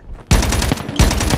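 Sniper rifle fire in Call of Duty: two loud, sharp shots about two-thirds of a second apart, each followed by a sustained, ringing roar that fills the brief stretch.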